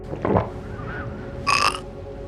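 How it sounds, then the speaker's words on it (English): A short, throaty burp, followed a moment later by a brief squeaky vocal sound, with no talking. "he even burped once again as a way to taunt his enemies."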